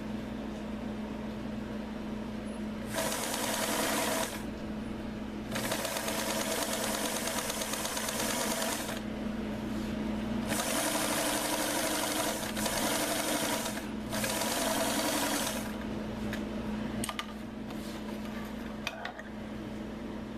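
Sewing machine stitching the front seam of a pair of pants sewn from a Simplicity 2761 pattern, heard in several steady bursts of fast whirring with short pauses between runs, close and clear with no talking.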